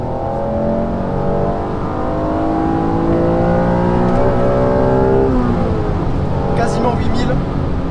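A sports car engine revs hard toward nearly 8000 rpm, its rising howl loud and sustained, with pitch climbing in stages and shifting before settling, alongside the drone of driving.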